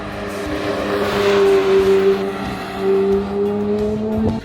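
A Porsche drives past on a sunny track at speed, its engine note sustained and rising slightly, loud and fairly close for several seconds with a faint squeal of tires.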